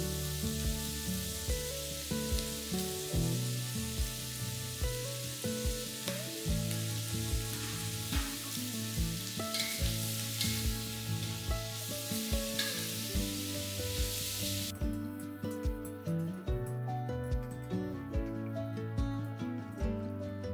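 Carrot and mushrooms stir-fry with cabbage fried rice in a hot pan, giving a continuous crackling sizzle with occasional stirring, while a steady musical backing plays throughout and drops out near the end.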